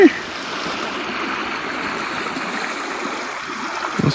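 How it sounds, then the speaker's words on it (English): A small creek runs over rocks and bedrock, a steady close wash of trickling, babbling water that carries on evenly throughout with no voices. "It's a beautiful little creek."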